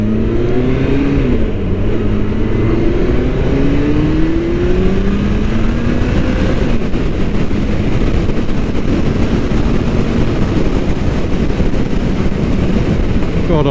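A Kawasaki ZZR1400 motorcycle engine revs loud and close, its pitch rising and falling through several swells over steady wind buffeting, with no voices.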